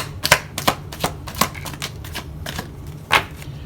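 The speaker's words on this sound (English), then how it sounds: "So I'll shuffle this deck one more time after this" A tarot deck being shuffled by hand, rapid crisp riffles and taps coming in irregular bursts, close and clear with no talking.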